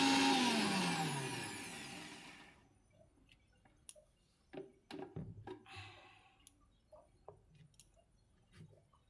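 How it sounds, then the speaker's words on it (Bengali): Electric spice grinder whirring loudly as dry-roasted spices for a slow-cooked dum mutton curry are ground to powder, a steady roar for about two seconds that cuts off, followed by quiet clicks and small handling knocks. "ঠান্ডা হয়ে গেছে, এবার গুঁড়ো করে নেব।"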